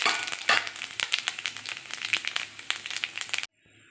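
Panch phoron spice mix and a bay leaf crackling in hot oil, a dense run of small pops and sizzling spits close by, cutting off abruptly near the end.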